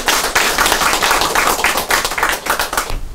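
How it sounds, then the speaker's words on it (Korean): An audience at a business lecture claps in dense, lively applause that fills the room, then stops abruptly. "박수 쳐도 괜찮을까요?"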